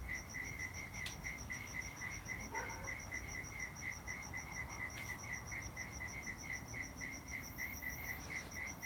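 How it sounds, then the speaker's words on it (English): Crickets chirp steadily at night, a continuous, even, high ticking trill carrying on through the whole stretch over a low background hum. "Very peaceful with those crickets ticking away, isn't it?"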